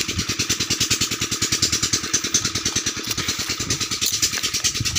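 A farm engine with an open exhaust runs steadily nearby, its loud rapid pulsing chug repeating evenly throughout, in a cornfield setting.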